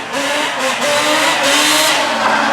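A Yamaha Banshee ATV engine screams at full throttle, a loud, sustained high-pitched two-stroke wail that holds steady with slight pitch swings, close by and with no talk over it.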